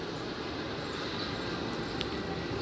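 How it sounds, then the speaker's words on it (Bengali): A train rolls along a new railway line at sunset, giving a steady, low, broad rumble that holds at an even level from start to finish. "দেখতে পাচ্ছেন ট্রেন যাচ্ছে"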